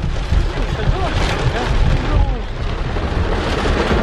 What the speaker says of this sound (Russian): Алиса, дождик, кап-кап-кап.